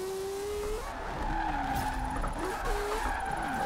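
Rotary-engined car drifting in Forza Horizon 4, sustained tire squeal in wavering tones over a steady engine drone, continuous and close throughout.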